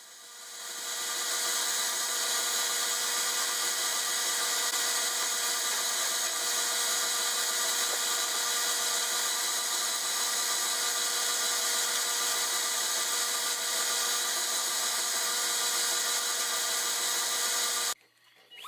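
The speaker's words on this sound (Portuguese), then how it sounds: "Começo com o lixamento da lateral das portas nessa lixadeira osciladora" A steady, continuous buzzing whir of an oscillating sander on wooden kitchen cabinet door edges, unchanging for many seconds, then abruptly stopping near the end.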